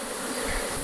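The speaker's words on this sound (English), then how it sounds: "the bees have been really, really busy through the summer" Honey bees buzz steadily at a busy summer beehive, a dense, continuous close-up drone with no pauses.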